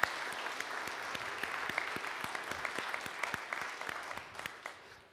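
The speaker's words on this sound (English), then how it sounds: "let's give them a round of applause," A Lutheran church congregation applauds during a worship service, faint and somewhat distant, with scattered distinct claps over a steady patter that tapers off at the end.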